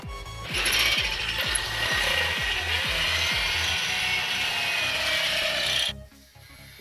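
A ratchet wrench tightens a nut and bolt on a greenhouse pipe frame, clicking in quick rhythmic bursts of loud metallic ratcheting for about five seconds before stopping abruptly.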